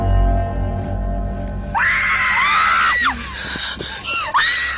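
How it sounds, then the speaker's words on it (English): People scream in fright, starting with a low rumble before a sustained shrill scream breaks out and continues with several more rising and falling cries. "We are left filled with screams and confusion."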